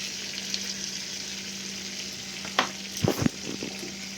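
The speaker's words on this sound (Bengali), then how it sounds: "রসুনটা হালকা একটু ভাজা ভাজা করে নেব।" Chopped garlic frying in melted butter in a wok, a steady soft sizzle with a few louder stirring scrapes near the end.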